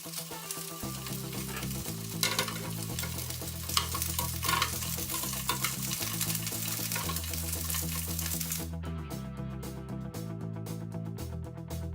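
Chipolata sausages frying in a pan for bangers and mash, a steady close sizzle that runs under background music, with occasional sharper spits and crackles and no talk.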